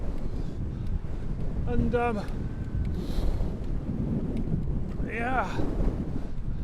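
Gusty wind buffets the microphone in low rumbling bursts during a bike ride toward Giethoorn, with someone speaking briefly over it.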